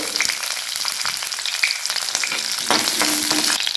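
Cumin and large chunks of chopped onion sizzling and frying in a pan, a steady crackle with stirring scrapes and a louder hiss near the end.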